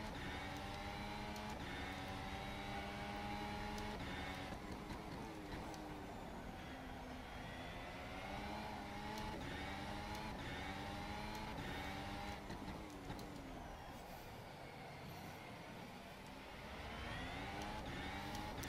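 Formula One car engine in rFactor 2 at Catalunya, a continuous high-revving whine with rising and falling pitch through gear shifts, loud and steady throughout with no talk.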